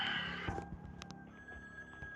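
Telephone ringing inside a mobile horror video game, a steady electronic ring tone over a dense, murky game soundscape with low rumbles and scattered clicks; no one speaks.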